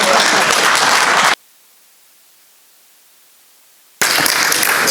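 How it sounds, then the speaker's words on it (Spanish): Applause from a conference audience in Cartagena: loud, close, dense clapping that breaks off abruptly into near silence for about two and a half seconds, then starts again at full strength. "Por favor, denle un aplauso."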